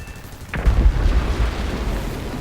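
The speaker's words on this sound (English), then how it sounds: "you will see how fast the guns shred him into pieces" Hurricane MK1 machine guns firing at a P-36C in War Thunder, a sudden loud burst after a brief quiet moment, then sustained rumbling fire continuing to the end.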